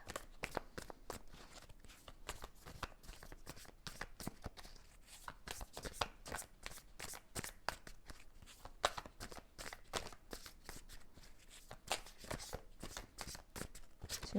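Tarot cards are shuffled in quick, crisp riffling bursts, a dense rapid flutter of paper slaps close by, with no talking.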